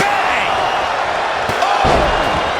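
Elbow strikes landing in a WWE 2K25 wrestling match, heavy thudding impacts over a loud arena crowd roar with commentary voices talking throughout.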